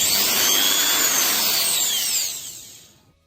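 A power drill bores a hole through the plastic cap of a slingshot, a steady loud high whine that holds for about two seconds and then winds down and fades out.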